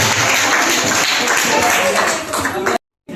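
Dense, sustained applause from a crowd at a college farewell party, many hands clapping at once, ending abruptly in silence.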